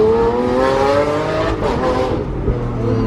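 Lamborghini Aventador V12 engine revs loud and close, with a sustained harmonic roar that rises, dips briefly and swells again, alone with no talk.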